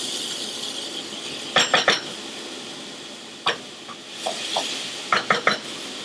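Tomato puree goes into a pot and is stirred, with sharp metallic clinks and scrapes of a utensil against the pot coming in short bursts over a soft sizzle.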